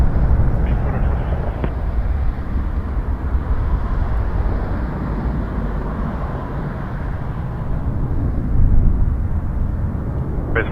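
Challenger jet aircraft on the ground at Toronto Pearson airport on a cold night, a steady broadband engine roar that swells slightly near the end, with a voice speaking over it.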